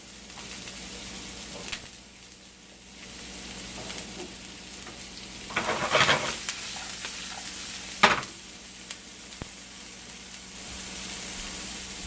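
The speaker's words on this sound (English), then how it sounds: "We'll throw the pork in there too." Pork for a ramen burrito frying in an oiled pan gives a soft, steady sizzle, with a couple of sharper crackling bursts as it is stirred.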